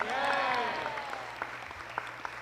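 Crowd applause at a Ram Navami celebration as entertainers come forward, a steady wash of clapping with a few sharper claps standing out and voices beneath it.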